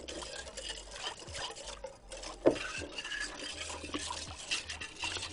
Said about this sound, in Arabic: هنجيب مضرب سلك ونقلب كل ده مع بعضه